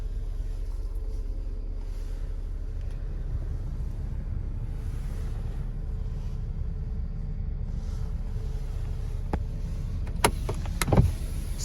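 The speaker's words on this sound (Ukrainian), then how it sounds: "Склопідйомники працюють." Electric power windows on a 2004 Opel Zafira run with a low, steady motor hum inside the car, ending in a few sharp clicks and a brief thump as a window stops.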